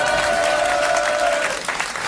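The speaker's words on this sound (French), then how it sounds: "Je vous demande d'applaudir." Studio audience at a 1982 French television show applauding steadily, a dense, loud burst of clapping that thins slightly toward the end.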